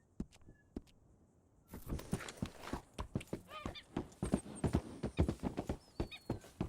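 Hooves of a Blanket Appaloosa horse in Red Dead Redemption 2 clip-clop in a steady galloping rhythm, loud and close, with bird calls and honks in the background.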